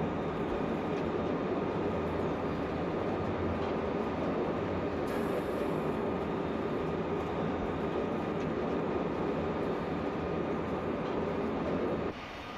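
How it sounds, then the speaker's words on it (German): A train passes in Train Simulator Classic on the Payerbach to Wien Hbf route, making a loud, steady rumble and rolling roar for about twelve seconds before it suddenly drops away. "Alle paar Minuten Zug hier."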